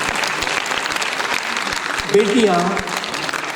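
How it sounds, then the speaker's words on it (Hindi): An audience applauds at a classical dance performance event, a dense, sustained clapping from a crowd that runs throughout while a host speaks over it. "एक बार इनके लिए तालियों के साथ।"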